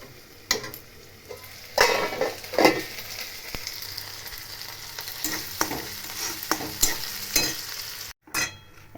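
Onions fry in a pan with broken green chillies while being stirred. Soft sizzling runs under repeated louder scrapes of the spatula, heard close and alone.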